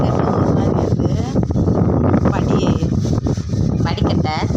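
Wind buffeting a phone microphone in a dark outdoor setting, a constant loud roar under a speaking voice throughout.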